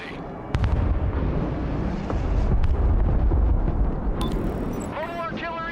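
Mobile artillery in Broken Arrow fires with a heavy blast followed by sustained rumbling booms and scattered pops, while a voice speaks over the din.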